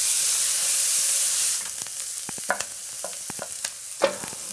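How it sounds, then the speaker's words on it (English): Onions and celery cooking in a pan, a bright hissing sizzle that quiets partway through, followed by scattered clicks and scrapes of a utensil stirring, close and without talk. "We're just gonna let this cook, stir it once in a while, for 5 to 7 minutes, or until the onions and celery are translucent"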